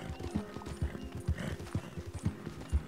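Horse hooves clip-clop in Red Dead Redemption 2, an uneven sequence of soft thuds at a walking pace, fairly quiet and close.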